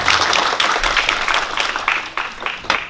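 Audience applause at a symposium of an infant development and early intervention association, a steady spread of many hands clapping, fairly close and sustained for a few seconds with no talk over it.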